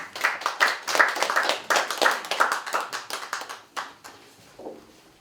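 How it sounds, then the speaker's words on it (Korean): Audience applause welcoming a guest speaker to the stage at a commemorative anniversary event, a burst of hand clapping from a roomful of people that starts strong and thins out toward the end. "나오실 때 박수로 맞아주시면 좋겠습니다."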